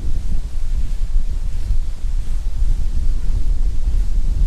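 Heavy, continuous wind buffeting the microphone outdoors while pike fishing, a low roaring rumble with no pauses or voices.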